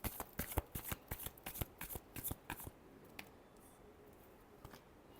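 A tarot deck is shuffled by hand: about a dozen quick, crisp riffling flicks in an irregular rhythm over roughly three seconds, then a quiet stretch with a faint room hiss.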